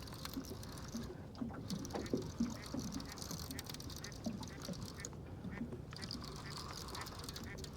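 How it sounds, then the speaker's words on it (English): Ducks quack repeatedly in short bursts over a steady outdoor background, with occasional voices nearby. "with some noisy ducks."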